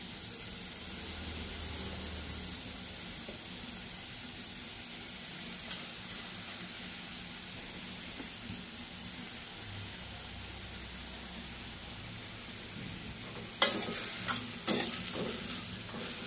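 Straw mushrooms for a pumpkin cream soup are stirred in a pan over a soft, constant sizzle and hiss, with a few louder utensil scrapes and clinks near the end.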